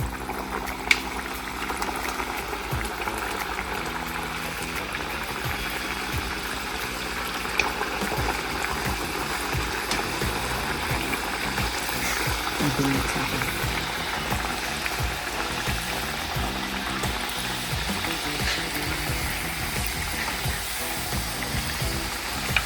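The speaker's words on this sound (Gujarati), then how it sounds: "હવે આપણે બધી પૂરી તેલમાં તળી દઈશું." Gujarati farsi puris deep-frying in hot oil over a medium gas flame, a continuous bubbling sizzle that holds steady and close throughout, with faint clinks now and then.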